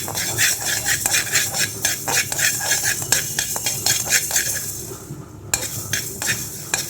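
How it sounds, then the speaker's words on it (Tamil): Dense crackling and popping from mustard and fenugreek seeds spluttering in hot oil, a steady busy sizzle with rapid sharp bursts throughout. "இப்போ பாருங்கள் கடுகும் வெந்தயமும் பொரிஞ்சுக்கிட்டு"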